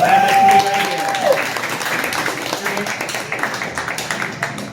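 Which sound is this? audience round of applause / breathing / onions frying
audience round of applause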